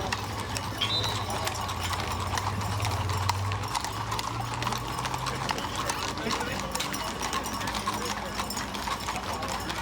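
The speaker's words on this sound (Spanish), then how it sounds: "primero han ido todos los caballos y ahora van todos los enganches" Horses' hooves clip-clop steadily through a mounted police unit and horse-drawn carriages parading in Córdoba, with Friesian horses and mule teams among them, mixed with crowd chatter and a low engine hum.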